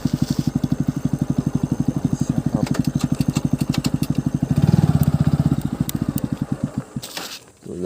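An NS125 motorcycle idles close by with a fast, even throb that swells briefly midway, then sputters and cuts out near the end.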